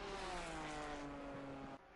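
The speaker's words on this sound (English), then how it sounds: "I'm listening for the engine notes." GR4 race cars on a circuit, heard as a distant, steady engine drone with sustained harmonic tones that hold flat before dropping away near the end, faint under a broadband wash.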